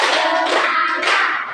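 Hands clap in quick steady succession in a classroom-style group activity, a dense run of claps filling the moment without talk.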